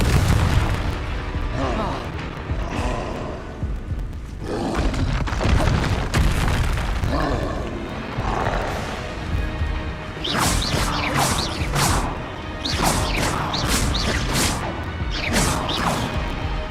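A Confringo spell explodes in Hogwarts Legacy amid a busy spell duel, loud booming blasts and crashes repeating through the fight, with other spell impacts mixed in.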